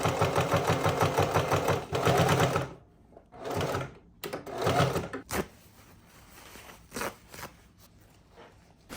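A domestic sewing machine stitches fabric for a sewing machine cover, running in loud rapid bursts with brief pauses between runs of stitching, the mechanical whir sounding close and alone.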